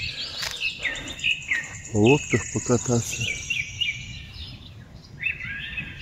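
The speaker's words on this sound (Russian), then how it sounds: "Пение птиц классно." Birds sing in Staraya Kuban park in Krasnodar near a beach, with bright, repeated chirps and trills close by, mixed with insect-like buzzing, while someone speaks briefly.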